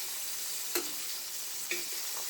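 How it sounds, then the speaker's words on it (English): Crispy-skin salmon fillet sizzles steadily in a hot pan as it is basted, with two sharp spoon-and-pan clinks standing out over the continuous frying hiss. "I'm going to take and baste"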